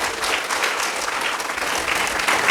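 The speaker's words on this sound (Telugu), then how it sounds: "ఫాదర్ గారికి గట్టిగా చప్పట్లు." An audience applauds the parish priest at the consecration festival of a new church in Ramireddypalli, Vijayawada, with dense, steady clapping that holds at an even level for the whole stretch.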